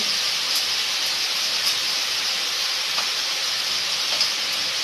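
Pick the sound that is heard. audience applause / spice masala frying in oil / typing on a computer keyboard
spice masala frying in oil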